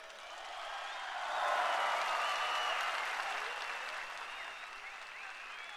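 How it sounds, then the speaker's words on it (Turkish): A large outdoor crowd applauds at a massive political rally in İzmir, steady dense clapping that swells and then eases over several seconds, with no talk over it. "Bana hak veriyorsanız alkış yapın."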